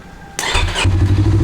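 A Yamaha MT25 motorcycle left standing for two weeks cranks with a brief starter whir, then its engine catches and settles into a steady, close, pulsing idle.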